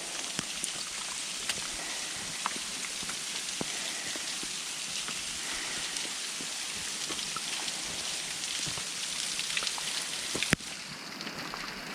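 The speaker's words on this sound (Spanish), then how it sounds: "Acá está lloviendo." Steady rain falls inside a cave, a close, even hiss of water with scattered sharp drips on the surfaces, continuing alone without voices.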